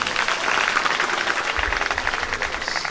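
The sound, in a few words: applause from school meeting audience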